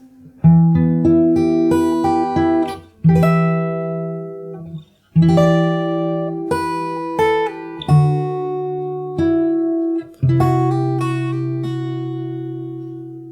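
Slow fingerpicked guitar notes from the bridge of a song ring out clearly on their own, individual plucks and short phrases with pauses, each note left to sustain and decay.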